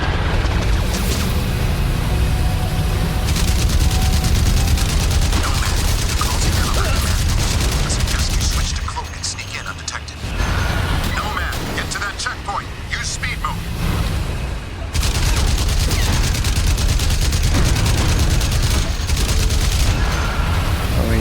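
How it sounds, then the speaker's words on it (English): Gunfire and grenade blasts from the video game Crysis rattle nearly nonstop, dense and loud, briefly dipping midway before the bursts resume, with a player talking over the action. "Oh, they're throwing grenades."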